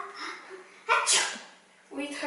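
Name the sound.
sneeze into the crook of the elbow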